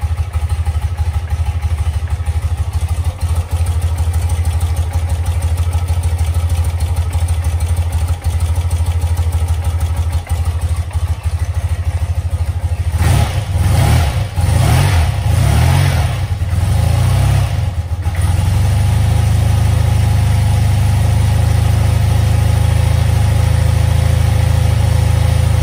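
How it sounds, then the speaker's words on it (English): A BMW R100 motorcycle with its boxer engine running close by: a loud, steady idle with a burst of several throttle blips partway through, then settling back to a deeper, even idle. "That's the most beautiful bike sound in the world, in my opinion."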